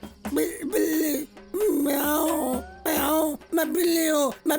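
A human voice imitates a barking dog in several loud, close bursts of yelping, howl-like barks separated by short pauses.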